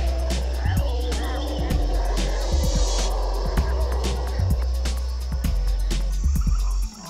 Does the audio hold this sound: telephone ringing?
no